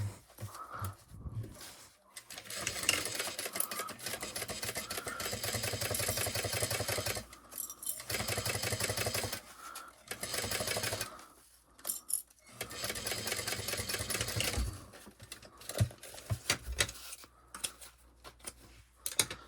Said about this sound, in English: And we're using a 1/4 inch seam allowance. Back stitch on the tab.